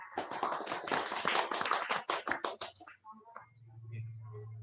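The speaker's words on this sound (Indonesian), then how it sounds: "Kita berikan tepuk tangan yang meriah." A small indoor gathering in Kartosuro giving a round of applause, quick close hand claps for a couple of seconds that stop abruptly, followed by a low hum and faint voices.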